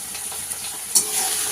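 Ground chili, Kashmiri chili, cumin, coriander and turmeric sizzle steadily as masala is fried and stirred in a pan, a close, continuous hiss with a brief louder flare partway through.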